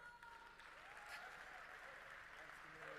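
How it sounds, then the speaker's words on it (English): Audience applause welcoming a World Health Organization speaker to the stage at a global ministerial road safety conference; dense, steady clapping fills the hall throughout, with voices faintly mixed in. "Please welcome him with a round of applause."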